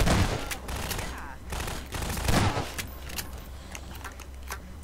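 Rapid gunfire rattles in Half-Life 2: Human Error, a steady stream of sharp shots with a few louder bursts over a constant low hum.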